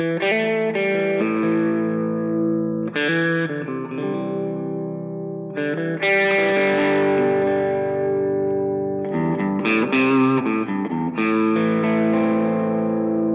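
Distorted electric guitar lead with effects, phrases ringing out with reverb and echo, loud and continuous with no talking.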